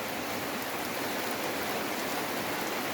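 Rain patters steadily on a tin roof, a dense, even hiss of drops with no distinct gaps, moderately loud and unbroken throughout, with no voices.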